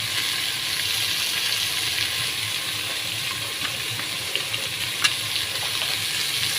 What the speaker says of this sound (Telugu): ఈ ఆకులన్నీ బాగా మగ్గనివ్వాలండి.